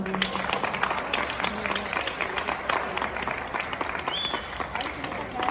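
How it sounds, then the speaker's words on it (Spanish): Audience applause at a Spanish-language book presentation, steady dense clapping spread across the whole stretch with a crowd murmur and some voices mixed in. "Vamos a recibirlo también con un fuerte aplauso, por favor."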